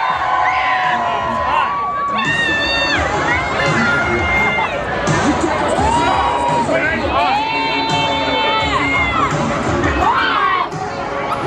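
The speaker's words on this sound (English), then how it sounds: "On the count of three, you're going to scream, and they're going to start." An audience at a pizza eating contest at the San Gennaro Feast of the Hamptons erupts in loud screaming and shrieking cheers, children's high-pitched yells rising and falling over crowd chatter for several seconds.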